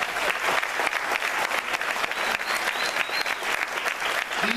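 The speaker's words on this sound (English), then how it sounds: "These people need a round of applause." Sustained applause from an audience honoring public education workers at a theatre gathering, dense steady clapping that fills the room for several seconds with no talk over it.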